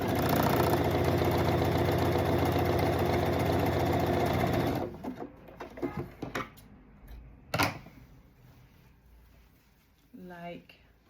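Sewing machine stitching two shoulder points of blue mesh fabric together for a flower dress: a steady, close mechanical whir that stops about halfway, followed by quiet handling clicks and a brief voice.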